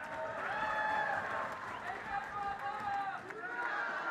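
Applause from an audience at a ceremony in the Maharashtra Vidhan Bhavan honouring cricketers, sustained clapping mixed with crowd noise and voices speaking over it.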